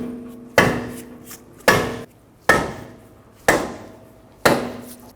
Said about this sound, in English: we're going to use a soft face mallet and give it a little tap to make sure it can move